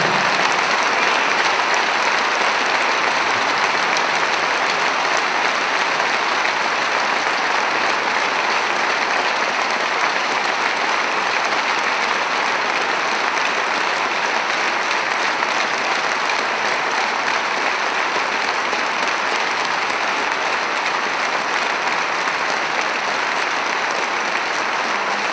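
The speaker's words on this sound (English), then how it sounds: "Now let's hear that 1 minute applause for the Panthers number 47, Adam Johnson." A large crowd in an ice hockey arena applauds steadily as a tribute, with sustained, dense and even clapping that fills the space and holds at a constant loud level throughout.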